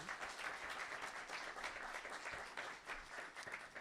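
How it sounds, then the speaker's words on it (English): Audience applause for presenters at an evening speaker series event, a sustained, even wash of many hands clapping, fairly faint and distant, with no clear speech over it. "let's welcome them with a nice round of applause for our presenters tonight"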